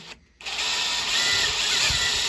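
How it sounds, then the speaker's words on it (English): A DeWalt 20-volt drill driver with a Phillips bit drives a screw, a steady close whirring motor that starts abruptly after a brief pause and holds at an even pitch throughout, with no talk. "my Dewalt 20 volt drill driver"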